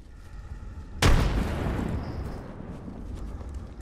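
A frag grenade detonates in the video game Apex Legends, one sudden deep boom followed by a long rumbling decay that trails off over a few seconds, loud and close.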